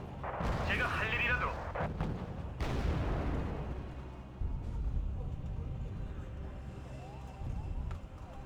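Bombing strikes and artillery in the Wargame strategy game land as heavy booming blasts and rumbling impacts, several in a row, loud and dense, with a voice talking at times underneath.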